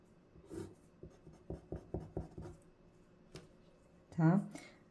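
A hand sketches a structure diagram with quick, crisp pen or marker strokes in a tapping series, and a voice speaks briefly near the end.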